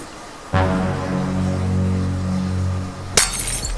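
Drinking glass shattering in a home kitchen: a sudden loud crash followed by a long ringing, resonant tone, then a second sharp burst of breaking and scattering shards near the end.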